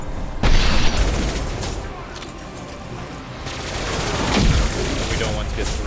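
Impact Shot biotic ability explosions in Mass Effect 2 Legendary Edition combat: a sharp boom followed by rumbling blasts and bursts of gunfire, loud and close, with combat voices underneath.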